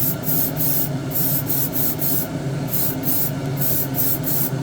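An airbrush sprays paint in short repeated hissing bursts inside an all-steel spray booth, over the steady whoosh of the booth's running fan.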